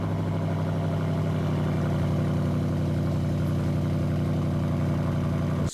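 A Lexus RC F fitted with an aftermarket exhaust idles steadily with a deep, rumbling burble, loud and close throughout, cutting off abruptly at the end; no one speaks.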